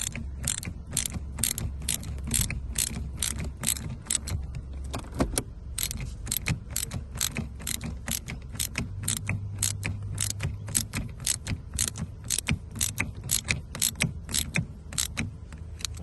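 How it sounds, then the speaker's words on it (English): A ratchet tightening a nut on a Toyota Camry handbrake, a fast, steady run of close metallic clicks through repeated strokes, with a faint low hum beneath. "with the help of ratchet, hopefully we'll be able to do that. Okay, we'll tighten it."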